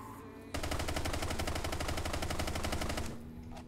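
Rapid automatic gunfire in a Lego vehicle video game shoots out a car's engine during a police drift chase. A single loud, tightly spaced burst lasts about two and a half seconds, then cuts off into a quieter engine hum.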